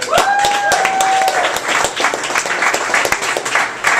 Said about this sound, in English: Let's give it up one more time for the comedians you already heard tonight.